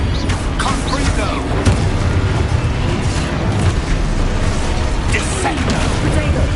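Confringo fire spell blasts in Hogwarts Legacy on PS5, a dense continuous rumble of explosive bursts and crackling impacts, loud and close throughout with game effects layered on top.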